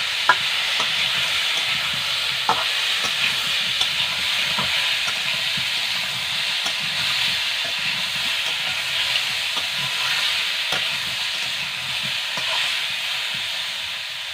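Young jackfruit pieces stir-fried with turmeric in a pan give a continuous close sizzle, punctuated by frequent light clicks and scrapes of the spatula moving them around, with no talking.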